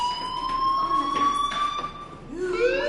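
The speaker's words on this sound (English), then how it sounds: "do you hear that fire alarm?" A school fire alarm in the Life is Strange video game sounds as a steady electronic tone with high overtones, continuous and fairly loud, shifting into a rising sweep near the end.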